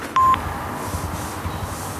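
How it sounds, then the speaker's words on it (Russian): A phone number is dialed on a telephone, one short loud electronic tone at the start, then steady indoor background hum with no clear talk. "Андрюша, позвони, пожалуйста, Мише еще раз"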